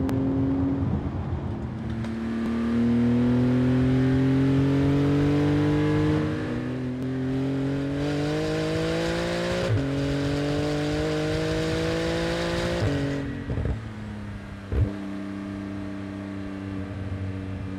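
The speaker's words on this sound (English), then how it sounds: "let's listen to that exhaust and let's enjoy that beautiful sound of the" A Porsche GT2 RS on a racetrack, its exhaust roaring loud and close through long rising revs, gear shifts breaking each climb, then backing off with a few crackles near the end.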